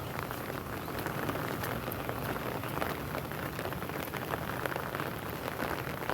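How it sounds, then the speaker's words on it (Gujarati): Steady, dense rain drums on an umbrella, a loud close-up patter that stays constant throughout with no pauses or voices. "છત્રીમાંય પાણી પડે કાંઈ મેળ નથી છત્રીમાં વરસાદ એક ખખો લેતો નથી"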